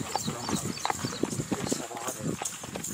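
A purebred horse in Bhalwal, Sargodha clip-clops steadily with a ridden gait, its hoofbeats close and rhythmic beneath almost constant talk from people nearby.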